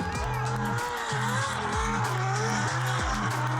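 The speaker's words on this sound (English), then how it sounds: "We've got Jerry Johnson in that also black FRS BRZ GT86." A V8-swapped Toyota GT86 drift car at a Formula Drift event roars loudly with repeated rev surges and gear changes, its tires squealing in long smeared wails over the engine across the whole stretch.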